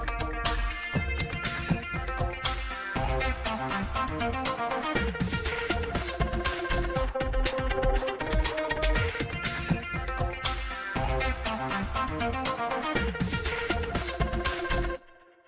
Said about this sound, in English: these keys here trigger different variations of those loops